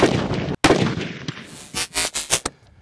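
Several sharp, loud cracks from a NEMO Arms OMEN .300 Win Mag rifle come close together near the end, following an earlier single burst and some broad rumbling noise.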